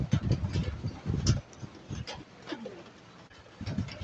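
Pigeons or doves coo in short throaty bursts, close and fairly loud, pausing between calls with a quieter stretch in the middle before cooing resumes.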